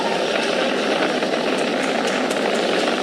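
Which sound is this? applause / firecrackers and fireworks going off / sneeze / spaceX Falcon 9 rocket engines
spaceX Falcon 9 rocket engines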